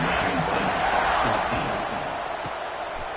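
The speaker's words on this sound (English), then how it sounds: "They're set to kick it off, and this crowd now ready to get behind them." A college football video game stadium crowd roars at the kickoff after an extra point, a broad, steady wash of cheering that fades slightly toward the end.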